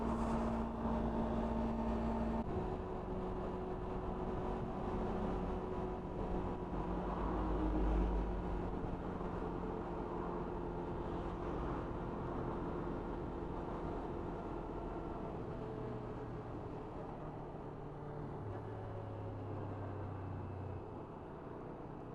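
A Suzuki Inazuma motorcycle engine runs at a steady low hum, with the pitch shifting slightly as revs change over about twenty seconds; the sound is fairly quiet and continuous, with no talk.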